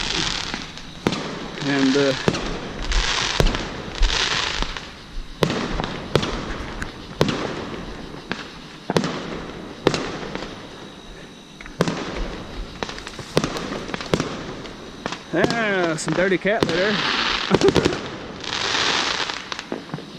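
Fourth of July fireworks pop and bang in an irregular series of sharp, fairly close explosions with crackling bursts, going on throughout while someone talks over them.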